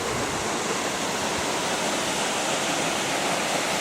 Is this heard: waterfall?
yes